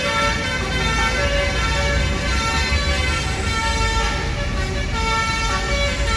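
A Basuri telolet horn on an Indonesian intercity bus sounds a loud, continuous melodic toot close by, layered over engine rumble and road noise with no pause through the clip.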